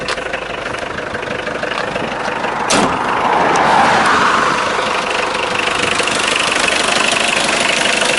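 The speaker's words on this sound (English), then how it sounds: "It's a very good running engine." A 1984 Mitsubishi 4x4 five-speed turbo diesel engine idles up close with a loud, steady knocking clatter and a brief thump partway through.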